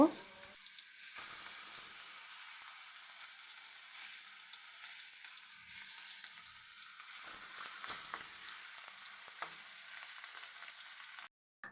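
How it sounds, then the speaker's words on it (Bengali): Pangas fish frying in a pan, a soft, steady sizzle at low level with faint stirring clatter and a few brief taps, the sound cutting off abruptly near the end. "এই তো আমি এখন মাছগুলোকে ভালোভাবে ভেজে নিব"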